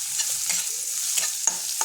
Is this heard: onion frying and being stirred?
yes